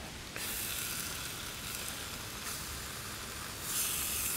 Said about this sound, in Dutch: Je hoort hem sissen, dus dan weten we dat hij goed heet is aan de kanten.